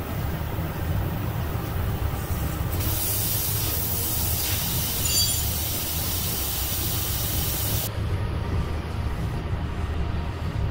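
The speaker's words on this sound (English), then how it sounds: "make sure you drain all the air from the tank" Compressed air from a trailer's air tank hisses steadily and loudly as the tank drains, the sound broad and continuous with a brief surge in intensity partway through before settling back.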